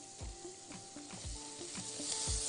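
Garlic, onion and two spoons of tomato paste sizzle and fry in olive oil, a steady close crackle with rhythmic stirring scrapes in the pan and no talk.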